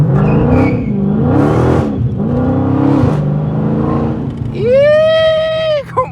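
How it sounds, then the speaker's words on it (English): A straight-piped 2020 Scat Pack engine roars loudly and close up in long revving surges that rise and fall, and a sharp whine near the end cuts off abruptly. "This thing roaring, boy."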